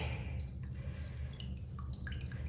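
Water runs steadily into a bowl while vegetables are rinsed in a kitchen, a continuous close splashing trickle with occasional small drips, no talking.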